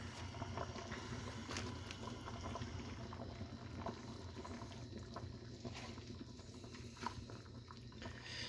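Corned beef, carrots, potatoes and quartered cabbage boil in a Dutch oven, giving a steady, close bubbling and rolling churn with occasional small pops, quiet and continuous with no talk.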